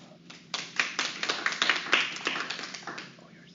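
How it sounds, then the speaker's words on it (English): Audience applause greets a speaker introduced for a talk on debunking dating myths, a short burst of close, uneven hand claps that swells quickly and fades over a few seconds in a room. "So, round of applause for Sarah."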